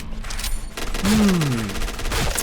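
Rapid gunfire crackles in a first-person shooter game, a steady stream of close shots with a whooshing tonal sweep partway through and a busy game mix underneath.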